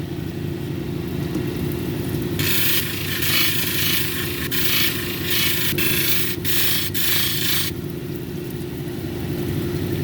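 Cabochon of Mexican red lace agate pressed against a 280 grit sanding wheel, a bright gritty hiss for several seconds over a constant low machine hum that runs alone throughout.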